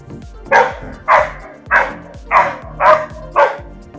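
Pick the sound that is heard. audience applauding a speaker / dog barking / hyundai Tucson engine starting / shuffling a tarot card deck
dog barking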